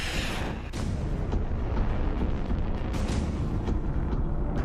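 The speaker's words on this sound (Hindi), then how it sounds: "पुतिन यहाँ मॉस्किट मिसाइल लॉन्च कर रहे हैं जो एंटी शिप रोल में बहुत घातक मिसाइल मानी जाती है" Russian Moskit anti-ship missile launch: a sharp blast followed by a loud, sustained roaring rush of rocket exhaust that continues without a break.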